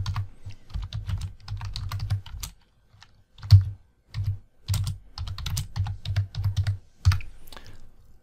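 Typing on a computer keyboard while editing web page text, with quick clustered clicks of keys in several bursts separated by short pauses, close and clear with no talking.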